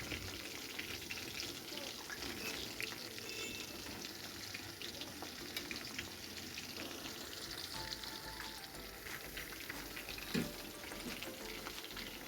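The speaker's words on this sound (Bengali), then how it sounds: "এখন হচ্ছে দ্বিতীয়বার ভেজে নিচ্ছি। এপিট ওপিট উল্টিয়ে নিয়ে মুচমুচে করে ভেজে নিব।" Chicken pieces deep-frying a second time until crispy, turned from side to side, giving a steady broadband sizzle and bubbling of hot oil throughout, with occasional utensil clinks and a brief knock near the end.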